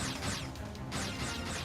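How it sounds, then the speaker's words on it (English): In the Mega Man Legends game, a missile or torpedo makes a loud, continuous rushing whoosh that sweeps down in pitch again and again in quick swooping waves, with no voices over it. "That's the sound of a missile or a torpedo."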